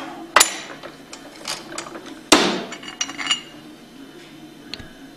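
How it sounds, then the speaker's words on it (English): A bearing is pressed out of a Hypro roller pump with a bearing tool on a workbench, giving two sharp metallic knocks and several lighter clinks and scrapes, close and fairly loud, with no talk. "And then press your bearing out."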